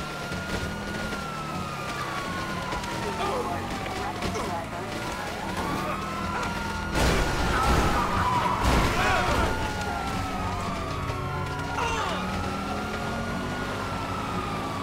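Police sirens wailing in a GTA5 video game chase, several overlapping rising and falling tones over engine rumble and traffic noise, with a louder burst of crashes midway.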